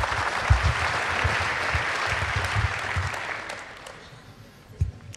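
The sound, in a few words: audience applause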